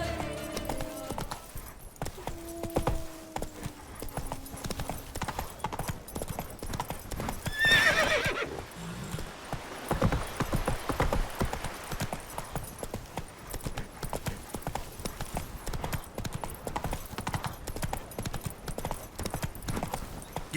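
Horse hoofbeats from The Witcher 3: Wild Hunt clop steadily through the whole stretch, with a brief neigh midway and a few short spoken words early on, amid ambient outdoor game sound.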